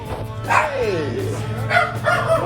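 A dog barking and yipping nearby, a few sharp, loud barks spread over a couple of seconds above a low background hum.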